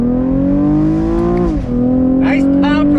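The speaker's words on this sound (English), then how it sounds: "Nice pop from the exhaust." A 2021 Chevrolet Camaro RS convertible engine holds a loud, steady drone as it accelerates from a stop on twisty roads. The revs briefly dip and recover with a shift, and a crackling exhaust pop follows near the end.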